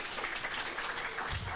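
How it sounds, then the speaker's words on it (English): Brief applause from an audience at a church Bible Bowl championship for a third-place elementary division finisher, a steady moderate wash of clapping with no voices standing out. "So let's give her a round of applause."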